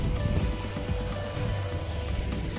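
The Kundah waterfall in the Nilgiris roars as a constant, broad rush of falling water, loud and steady throughout with no breaks.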